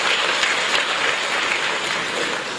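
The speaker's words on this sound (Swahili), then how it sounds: "Tuwape makofi mengi sana." Dense, sustained applause from a large audience at a SADC ministerial meeting in a conference hall, broad and even clapping throughout with no voices standing out.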